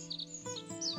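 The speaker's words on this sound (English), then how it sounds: "Within this dense sea of bamboo dwells a special bird, the feiyi bird." A small quail-sized bird chirps in a dense bamboo forest, a few quick high tweets and a short rising call over soft ambient background.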